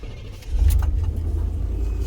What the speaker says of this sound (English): Now we're starting up the engine of the truck.